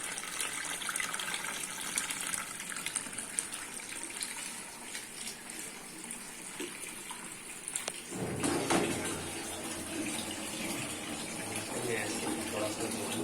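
Tap water runs steadily over beef trotters being washed for paya, a continuous close splashing gush that turns fuller and heavier partway through, with no speech.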